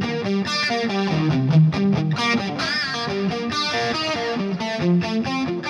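Electric guitar played through the chorus setting of a cheap multi-effects pedal, a continuous run of distorted, shimmering chords and single notes with swirling modulation, loud and close, no talking.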